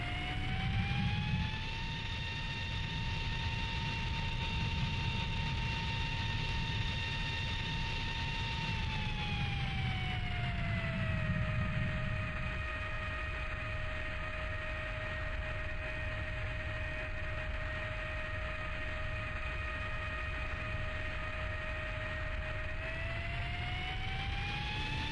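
A fighter jet in the Strike Fighters 2 flight game roars with a continuous engine drone, its whine rising and dipping in pitch as power changes through a long steady stretch, loud and alone.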